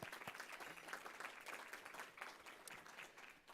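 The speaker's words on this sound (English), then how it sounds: "Let's give them a round of applause." Steady applause from a crowd, many hands clapping at once, dense and continuous throughout with no talking over it.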